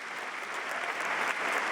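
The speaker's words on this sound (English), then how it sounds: "Let's have a round of applause for these individuals." An audience at a university graduation ceremony claps in a steady, dense wash of applause from many hands, unbroken and fairly loud from start to finish.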